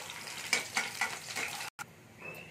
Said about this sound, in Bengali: এটা আমি একটা ভাজতে দিতে হবে একটু রসুনটা